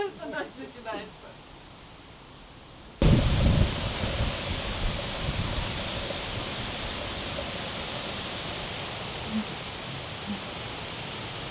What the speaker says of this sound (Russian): Кажется, дождь начинается.